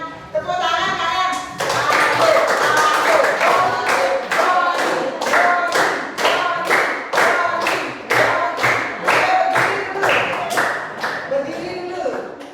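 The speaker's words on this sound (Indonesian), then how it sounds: "Tepuk tangan kalian" A group claps in a steady rhythmic beat at a children's class gathering in Indonesia, sharp regular claps filling the room, with voices murmuring underneath.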